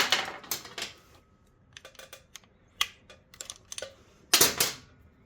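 Wrench clicks and metallic taps while loosening 12mm nuts on a Suzuki SV650 clutch cable, sharp irregular ticks and clinks up close in bursts, with a denser cluster near the end.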